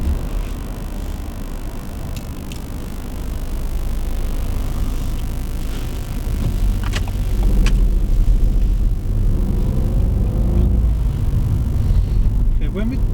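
A car's cabin rumble and road noise run steadily as it pulls away and drives on during a driving lesson, with low engine drone building slightly midway and voices talking over it.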